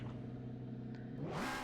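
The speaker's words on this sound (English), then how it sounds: "Start up the engine." A McLaren 720S GT3 race car engine in the racing game Assetto Corsa Competizione fires up near the end after a low idle-like rumble, rising quickly into a loud revving roar.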